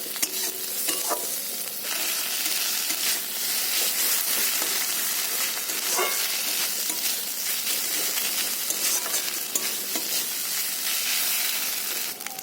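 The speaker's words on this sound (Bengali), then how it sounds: "আদা ভাজা হয়ে গেছে আদা রসুনটা দিয়ে দেবো" Loud, continuous sizzling of ginger and garlic frying in hot oil, with scraping and stirring sounds throughout and no talking.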